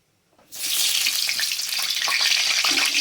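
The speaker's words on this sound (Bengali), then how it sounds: "আলুগুলোকে ভালো করে লাল করে ভেজে নেবো" Diced potatoes hit hot oil in a wok. After half a second of near silence, a loud, bright hiss bursts in and holds steady to the end.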